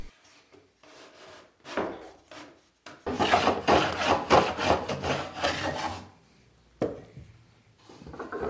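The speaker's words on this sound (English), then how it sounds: "I will add some wax for a smoother slide." Wax is rubbed back and forth onto wooden drawer slides of a handmade nightstand cabinet, raspy scraping strokes in short bursts and then a longer sustained stretch of rubbing, close and moderately loud, with pauses between and no speech.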